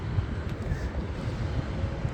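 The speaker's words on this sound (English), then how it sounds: "It is very windy out here." Strong wind buffets the microphone at an outdoor EV charging site, a low rumbling roar that stays constant across the short stretch with no speech.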